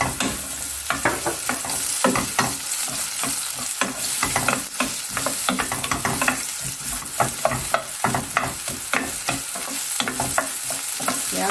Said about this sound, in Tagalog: saute the onion till become translucent